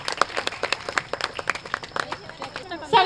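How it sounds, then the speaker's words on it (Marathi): An audience at a village prize-giving event in Shelgi claps in a quick, irregular patter. A voice speaks over the clapping near the end. "जोरात टाळ्या वाजवायच्यात बरं का."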